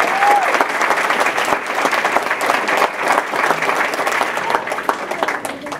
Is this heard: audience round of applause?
yes